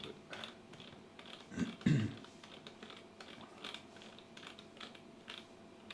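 Clicking of a computer mouse and keys, a series of small, quiet clicks and taps at irregular intervals, close by with no speech.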